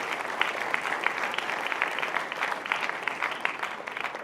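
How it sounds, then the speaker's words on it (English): An audience at a graduation ceremony applauds the class, a dense, even wash of many hands clapping at steady volume throughout, with no speech over it. "you deserve a round of applause for having got there"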